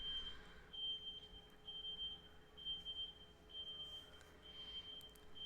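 A FedEx truck's reversing alarm beeping in an even, repeated rhythm, faint and distant, with quiet room ambience around it.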